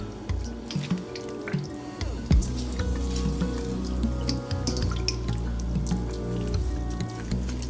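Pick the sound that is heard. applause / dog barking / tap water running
tap water running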